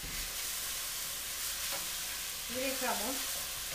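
Onion frying in oil for ají de gallina gives off a steady, close sizzle, with a voice speaking briefly near the end.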